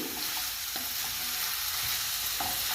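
Ginger garlic paste fries and sizzles steadily in a curry with carrot and capsicum, a continuous hiss with a few soft stirring clicks and scrapes, no voices.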